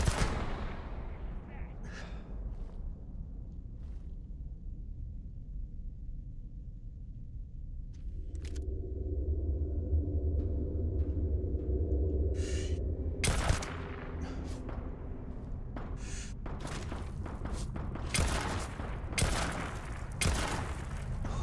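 Gunfire in the Starfield video game: bursts of shots crackle out, thinner at first, then a dense run of loud, rapid reports over a low rumbling bed.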